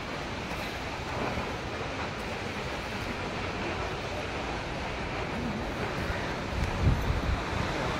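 Fungfungey Falls in Taplejung, eastern Nepal, roars as a steady broadband rush of falling water, loud and unbroken throughout.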